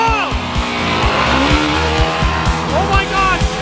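Custom ATV and RC car racing at high speed, engines whining with rising and falling pitch sweeps and tire squeal, loud and close throughout while voices talk over the roar.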